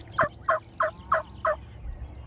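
A wild turkey gobbler in Nebraska gobbles in five sharp, evenly spaced bursts, close and loud, over quiet background.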